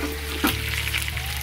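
Pork leg fries in boiling hot oil, giving a dense, crackling sizzle that runs continuously, with a sharp spatter burst partway through and some tonal kitchen hum beneath.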